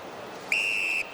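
A referee's whistle at an AFL football match between Carlton and Melbourne: a single sharp, steady blast of about half a second, loud and clear over faint crowd ambience.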